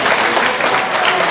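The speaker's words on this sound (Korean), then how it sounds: "박수 한번 칩시다." A church youth service congregation claps together, a brief, even burst of applause from a room of young listeners, close and fairly loud.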